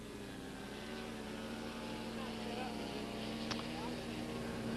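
A propeller airplane flies aerobatic loops and rolls at an early-1980s fly-in, its steady engine drone faint and distant, with a person talking over it.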